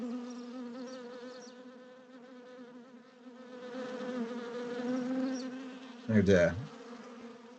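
Wasps buzz in an immersive learning scene, a continuous droning hum that swells and fades as insects pass close, with one louder near pass and a person briefly muttering.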